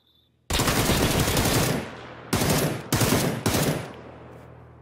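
Automatic weapon fire aimed at the player in PUBG, close and loud: one sustained burst of about a second and a half, then three quick, sharp bursts that each trail off.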